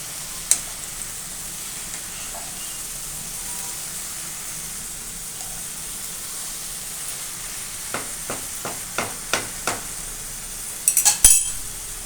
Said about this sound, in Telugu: కొంచెం కలపాలి ఇట్లా కలపాలి మాడిపోకుండా